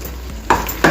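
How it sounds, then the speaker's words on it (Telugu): Ground spices, coriander powder and turmeric, sizzle and fry in a pan for raw banana kofta curry, with a soft continuous hiss and two brief stirring scrapes close by. "ఇదంతా కాస్త దగ్గర పడే వరకు వేయించుకోవాలి."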